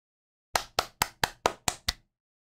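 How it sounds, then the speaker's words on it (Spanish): Seven crisp hand claps ring out in a steady, evenly spaced rhythm, close and fairly loud, each one sharp and quickly decaying, with silence before and after. "pongámonos de pie para aplaudir por este logro"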